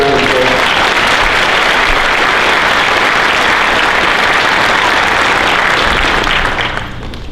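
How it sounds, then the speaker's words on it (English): A loud, sustained round of applause from a ceremony audience honoring police command staff, dense clapping holding steady for several seconds before thinning out at the end. "Let's give a round of applause."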